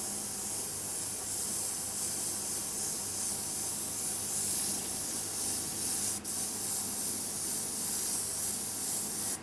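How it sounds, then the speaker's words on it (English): An airbrush sprays paint over a stencil in a continuous, even hiss held from a distance, steady for nearly ten seconds apart from one brief break, with no voices. "I'm holding the airbrush at quite a distance, and I can do that because I've got it all covered"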